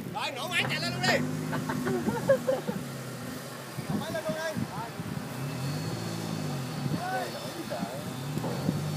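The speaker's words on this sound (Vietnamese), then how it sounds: "Rồi nổ máy chạy lên luôn đi." An offroad Jeep driving through floodwater, its engine rising and falling in several throaty revving surges beneath loud, excited talk from people nearby.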